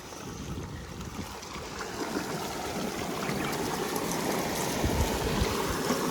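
Cold well water gushes from a motor-fed pipe into a farm sprayer pump tank, a close, steady rushing flow that swells slightly louder as the tank fills.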